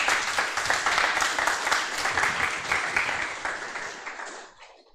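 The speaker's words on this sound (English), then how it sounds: "I think that itself deserves a round of applause." An audience at a solar decathlon finals event gives a lively round of applause, dense clapping that holds for a few seconds before tapering off at the end.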